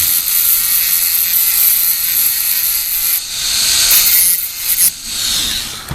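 A Dremel rotary tool grinds the teeth of a chainsaw chain, a loud, high-pitched continuous grinding whine that dips and resumes briefly as each tooth is touched up.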